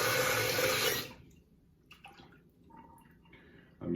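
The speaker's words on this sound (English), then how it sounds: "Top off my water." Water gushes loudly from a tap into a bathroom sink for about a second before being shut off, followed by a few faint drips and handling sounds, then a brief renewed burst.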